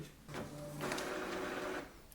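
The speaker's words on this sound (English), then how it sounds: "And now press the print button." An Epson ET-2980 inkjet printer runs a page through, a steady mechanical whir with a low drone and faint higher tones holding for about two seconds at moderate level, no voices.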